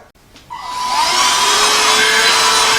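A Tipios D-Zero D2 handheld cordless vacuum cleaner starts up after a click and spins up into a steady, loud whine with a high airy hiss and a sustained tone, heard alone and up close.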